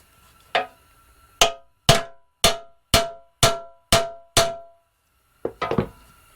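Seven sharp metallic taps of a hammer on a Craftsman tiller transmission part, in an even, steady rhythm, each ringing briefly, framed by a couple of softer knocks, with no talking.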